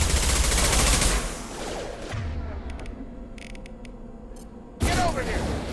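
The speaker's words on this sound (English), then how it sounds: "Shoot them before they take out your shields." Heavy gunfire in the video game Mass Effect 2, a dense loud volley opening the scene, easing into quieter combat noise with scattered clicks, then another burst of shots near the end.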